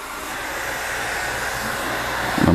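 A blow dryer runs continuously in a hair salon while hair is styled for a blowout, giving a steady, fairly loud rushing whoosh with a brief louder burst at the end.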